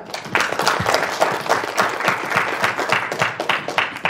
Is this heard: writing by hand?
no